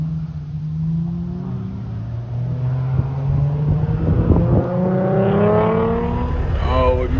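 Several cars rev and race along a street, engines rising and falling in pitch with overlapping revs and gear changes, heard over wind buffeting the microphone with a voice speaking in the background.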